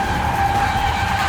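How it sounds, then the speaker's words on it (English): A Porsche electric car spins its tires in a tire-smoking burnout, a sustained, loud squeal with a steady high tone and no engine roar beneath it. "We just did a smoker in a Porsche."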